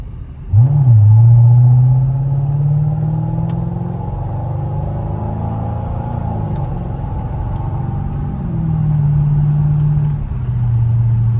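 A 2006 Mercedes SL500 R230 on 20-inch wheels accelerates on the road, its engine note rising steadily in a close, smooth rumble, easing off midway and building again toward the end.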